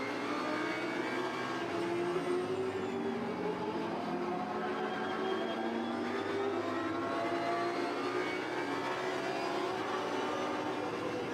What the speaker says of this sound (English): Always nice to just listen to the engines on these onboard cameras.